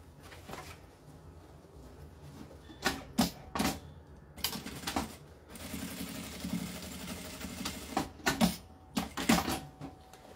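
Sewing machine stitching a straight seam on a toiletry case, starting with a backstitch, heard as bursts of rapid mechanical clatter separated by short pauses, close and moderately loud with no talking.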